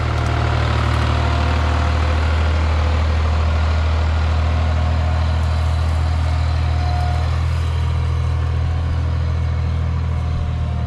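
The diesel engine of a month-old, 55 hp New Holland T580B tractor with a leveling blade drones on continuously at close range, a deep, even rumble that barely shifts over roughly eleven seconds and has no voices over it.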